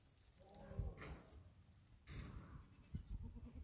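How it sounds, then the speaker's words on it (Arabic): Pampered local sheep bleat in short repeated calls close by, a few wavering cries over a low background murmur. "غنم مدللة ما شاء الله عليها تستاهل تستاهل الدلال"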